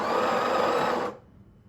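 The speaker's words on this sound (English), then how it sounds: "I'll put it on 14 and I'll grind for another second" A Breville Barista Pro BES878BTR burr grinder grinds coffee beans in one steady, loud whirring burst of about a second, stopping abruptly into near silence.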